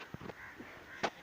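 Crows caw outdoors in a quiet rural spot, a few short, faint calls with a louder single caw near the end.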